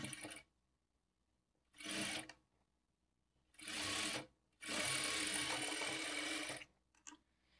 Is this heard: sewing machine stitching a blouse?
yes